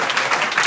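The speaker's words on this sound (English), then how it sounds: "Give yourself a round of applause." Brief, dense applause rises from an audience at an outdoor get-out-the-vote rally in Boston's South End.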